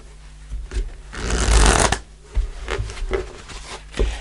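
A Tarot of Dreams deck is shuffled by hand at close range in a loud, papery riffle that swells in the middle, with lighter card taps and rustles before and after.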